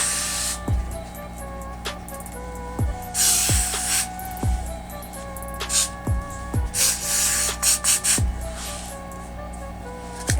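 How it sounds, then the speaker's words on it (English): Repeated short bursts of hairspray hiss close by onto wig lace, interspersed with soft clicks and handling noises, no talking. "I'm gonna spray the lace down."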